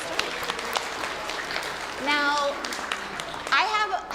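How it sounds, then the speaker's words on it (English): A group of listeners, children among them, claps after a story is read aloud, a sustained patter of hands with a couple of children's voices calling out over it. "Let's clap for the story."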